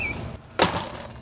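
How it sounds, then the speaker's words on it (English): Short squeak from the screen door on a truck camper, a brief bright burst with a faint ringing tail, close and alone, with no talking. "What's squeaking?"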